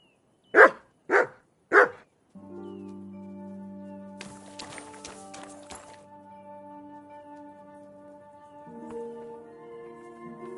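A dog named Frank gives three sharp, loud barks in quick succession, followed by a steady hum with a few scattered clicks and knocks.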